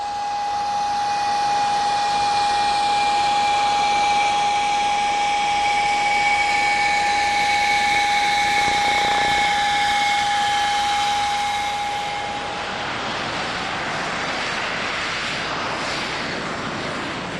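A Saab Draken jet fighter taxiing at an airshow, its engine giving a loud, steady whine with a sustained high tone that fades into broader roar after about twelve seconds.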